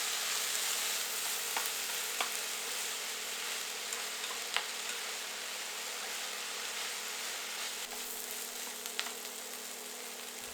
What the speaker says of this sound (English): Sauté for 5 minutes, mixing to ensure that all the seasonings are well distributed.